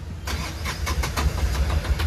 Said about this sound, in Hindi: गाड़ी स्टार्ट कर दिया,